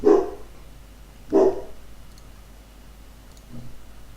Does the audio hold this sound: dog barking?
yes